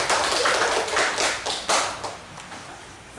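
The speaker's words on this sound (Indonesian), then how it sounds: "tepuk tangan buat kita semuanya" Schoolchildren in a classroom clap their hands together in a quick, uneven burst of crisp claps that gradually thins out.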